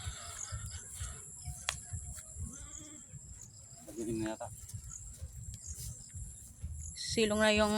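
Goats bleat several times at dusk, a few short cries then a louder, closer bleat at the end, amid faint rustling and background noise.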